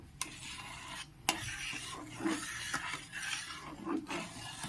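Milk powder mixture with added milk stirred steadily for langcha, a spoon scraping and rubbing inside the pot in close, soft repeated strokes with a few sharper knocks.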